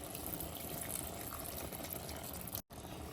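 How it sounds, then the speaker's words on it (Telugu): About half a glass of water is poured into a pan of tamarind-leaf chicken curry, giving a soft, steady splashing that is quiet and continuous and ends with a brief break near the end. "1 హాఫ్ గ్లాస్ వాటర్ వేసుకుందాం."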